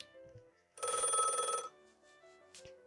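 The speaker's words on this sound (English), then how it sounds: "the store phone in the back begins to ring." A shop telephone rings once in a visual novel game, a single electronic trill lasting under a second that stands out clearly over near silence, followed by a faint click.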